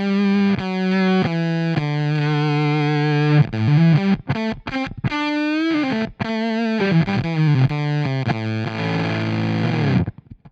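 An electric guitar played through a Woolly Mammoth fuzz pedal gives a thick, heavily distorted, bass-heavy tone, with sustained notes and quick runs ringing loud and alone, ending on a held chord that fades out.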